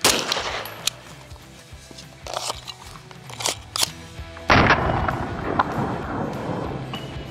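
Rapid 9mm shots from a KelTec Sub2000 carbine with a 16-inch barrel ring out at an outdoor range, a few sharp cracks followed by a denser burst, loud and close, with no voices.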